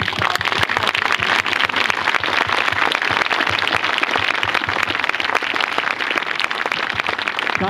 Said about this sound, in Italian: con questo applauso diamo il via alla nostra...